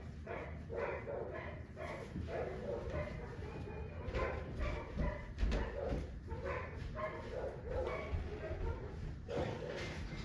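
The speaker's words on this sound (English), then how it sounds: "The dogs are going crazy." Several dogs bark excitedly in a steady run of yaps and whimpers, somewhat distant and fairly faint, over a constant background noise.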